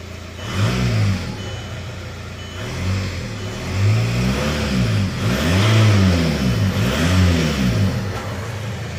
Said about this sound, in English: when you give it gas, it just the RPM rises really fast.